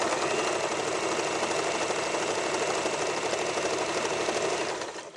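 An Elna 1000 sewing machine runs continuously, stitching with a fast, even mechanical whir and rapid needle clatter at close range, tapering off at the very end.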